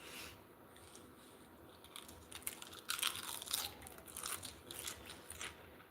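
Crisp crunchy ends of buttery toast seasoned with celery salt and pepper being bitten and chewed close up, several brittle crackling crunches clustered in the middle of the stretch over a quiet room.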